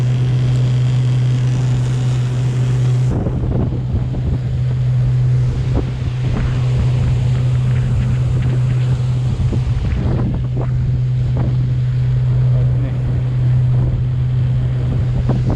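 A motorboat runs along a shipping lane during a pike fishing competition, its engine a loud steady drone close by, mixed with rushing water, wave slaps and heavy wind buffeting the microphone.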